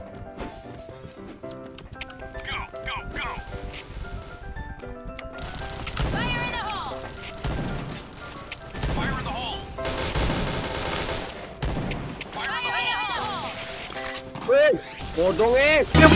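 Bursts of rapid automatic gunfire in the Point Blank shooter video game come in short volleys, with clicks and electronic game sounds around them and people chatting throughout.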